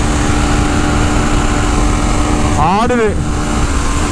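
KTM 390 Enduro R motorcycle engine running steadily at cruising speed, a constant broadband drone with wind noise throughout, and someone speaking briefly near the end over the engine.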